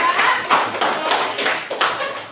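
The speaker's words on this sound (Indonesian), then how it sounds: "Kasih tepuk tangan untuk kelompok 3." A classroom audience claps for a student group after a presentation, a modest ragged patter of hands with periodic swells, fairly close and continuous through the short stretch.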